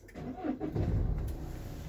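A Citroën Jumpy 3 van's 2.0 HDI diesel engine cranks briefly and catches, settling into a low, steady idle rumble close by.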